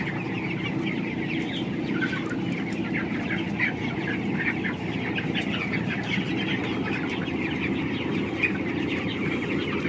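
A flock of chickens clucks steadily inside a fully enclosed, automated environmentally controlled poultry house, a dense continuous chorus of overlapping clucks over a constant low hum of fans, with no talking.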